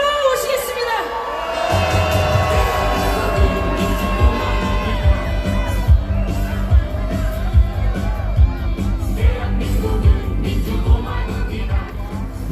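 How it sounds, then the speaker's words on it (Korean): A large crowd at an outdoor candlelight protest rally cheers and claps to welcome a speaker, with whoops and shouts and rhythmic drum-like beats under a loudspeaker voice. "황운하 의원님을 큰 박수로 모시겠습니다."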